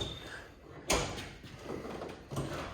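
A car door on a Honda is pulled open with a sharp latch clunk and a burst of noise, followed by quieter rattles and a second softer thump near the end.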